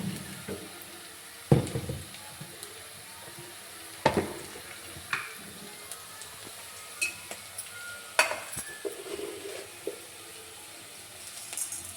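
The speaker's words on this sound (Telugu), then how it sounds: "ఇగో ఉల్లిపాయ ముక్కలు ఇలా మగ్గాలి, మగ్గినవి." Onion pieces softening in a pan for a fish curry, a low steady sizzle broken by occasional sharp spoon knocks and scrapes against the pan.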